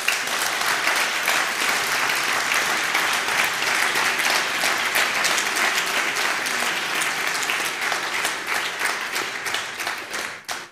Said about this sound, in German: Und ein doppelter Applaus kann da einfach nicht schaden.